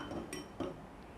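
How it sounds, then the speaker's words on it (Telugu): A lid is set over a bowl of rava uttapam batter, giving a few faint, brief clinks of metal or glass in a quiet kitchen. "ఒక మూత పెట్టేసి 15 నిమిషాలు పక్కన పెట్టేద్దాం."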